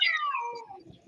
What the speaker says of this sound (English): Sounds like the cat's getting a bath.